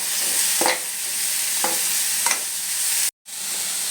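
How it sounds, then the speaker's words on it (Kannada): Mixed vegetables fry together on low heat for fried rice, with a steady soft sizzle and three distinct scraping stirs of a spatula across the pan. A short silent gap comes near the end. "ಇವಾಗ ಇದಿಷ್ಟು ತರಕಾರಿನೂ ಒಟ್ಟಿಗೆ ಹಾಕಿ ಸಣ್ಣುರಿಯಲ್ಲಿ ಒಂದು ಐದು ನಿಮಿಷ ಫ್ರೈ ಮಾಡ್ಕೊತೀನಿ"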